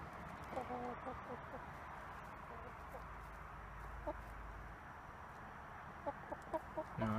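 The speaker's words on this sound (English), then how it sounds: "They're vicious chickens." Chickens clucking softly at close range in short scattered bursts over a quiet background hum, with voices speaking intermittently.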